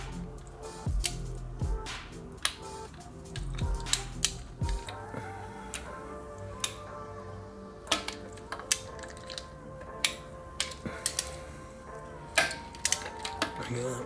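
Ratchet with swivel extensions loosening turbo bolts on a Nissan RB26DETT twin-turbo engine in a Skyline GTR, quick clicking bursts and metallic ticks near the mic, with faint background noise.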